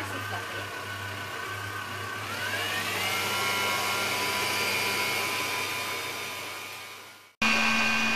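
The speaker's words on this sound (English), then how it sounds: "Just going to whisk them until they're nice and fluffy." An electric whisk beating eggs until fluffy for a raspberry souffle, a steady motor whine that rises in pitch as it speeds up, holds, then cuts off abruptly before briefly starting again, no talk.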